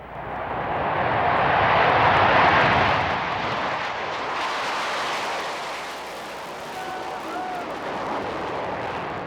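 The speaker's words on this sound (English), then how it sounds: "lit up the skies over Toledo in 2002 with roaring jet engines and precision maneuvers" Navy jets roar past at the Toledo air show at Toledo Express Airport in 2002, a broad rushing engine noise that swells loudly to a peak, then eases into a steadier distant rumble.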